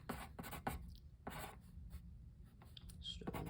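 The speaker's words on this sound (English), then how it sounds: "Write that down." Handwritten note scratched onto paper, short bursts of rubbing and scribbling strokes, close and fairly quiet, with a couple of pauses between strokes and no talking.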